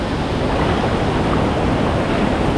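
Spring water flowing at a resort pool in Calapan, Oriental Mindoro, a loud, steady rushing wash of water with constant broadband noise and no breaks, close to the microphone.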